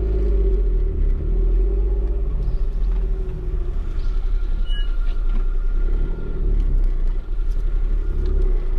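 A 1984 Suzuki Fronte 550 SS40 engine idles steadily and close by, a continuous low rumbling drone with no voices.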